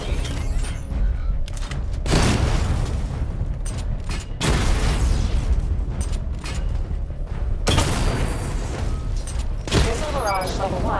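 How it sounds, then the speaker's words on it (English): A missile barrage in Batman Arkham Knight fires repeatedly: loud, dense bursts of booming explosions and mechanical clatter in several waves, with short quieter gaps between them and a synthetic voice speaking over parts of it. "Destroy targets to charge up weapon energy and activate missile barrage."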